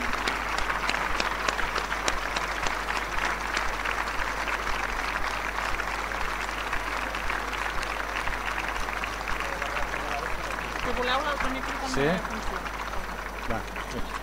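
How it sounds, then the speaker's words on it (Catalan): Sustained applause from an audience at a Catalan commemorative public event, steady clapping filling the space throughout with murmuring voices mixed in. "Moltes gràcies, un fort aplaudiment."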